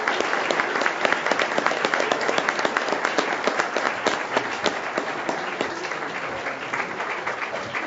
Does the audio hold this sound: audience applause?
yes